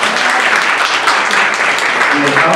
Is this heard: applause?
yes